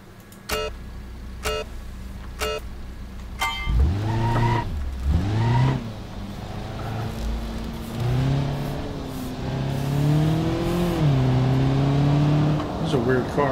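An engine revs in BeamNG.drive, a driving game, as the player tries a police trooper car. Its steady harmonic drone climbs, dips and climbs again, loud and sustained throughout. A few sharp clicks come first, and a voice talks over the engine.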